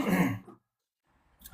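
A single short, harsh cough or throat clear up close, followed by near silence.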